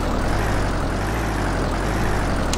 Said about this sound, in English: The engine's trying.